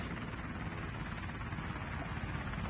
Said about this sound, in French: Attends, j'arrive avec l'hélico.